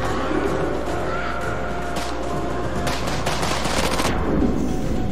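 Rapid gunfire from the House of Ashes video game, a dense continuous stream of shots over a steady background, with sharper bursts clustered toward the end.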